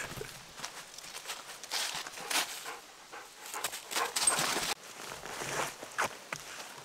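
Dogs out on a backpacking trip in the woods, with rustling movement and footsteps through brush, scattered soft whimpers and restless shuffling at close range, no talking.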